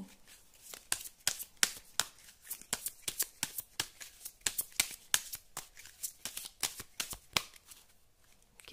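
Tarot cards are shuffled and handled up close, a rapid run of crisp riffling flicks and slaps repeating steadily in a quiet room.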